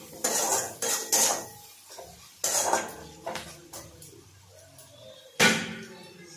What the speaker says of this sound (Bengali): এরপর একদম ভালোভাবে মশলাগুলোর মধ্যে মিলিয়ে নেব।